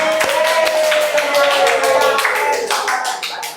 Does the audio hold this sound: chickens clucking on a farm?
no